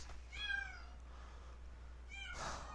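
A cat meows twice, a drawn-out call followed by a shorter, louder one a couple of seconds later, faint and indoors against quiet background hum.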